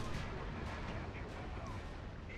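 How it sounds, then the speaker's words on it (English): A Tiger tank exploding in a tank video game, heard as a dense, continuous rumbling roar of blast noise lasting a couple of seconds at moderate, distant-sounding volume. "that was the sound of one of our Tigers exploding"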